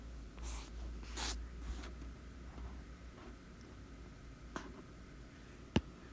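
A pen scratches across paper while a graph is sketched by hand, in short quiet strokes separated by pauses, with a couple of sharp taps near the end.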